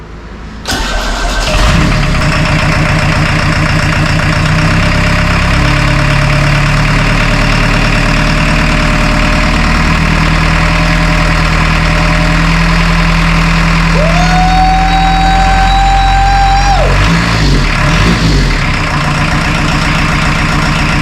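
A restored VW Saveiro G1 pickup engine cranks and catches, then settles into a loud, steady idle close to the mic, its tone rising briefly partway through before dropping back.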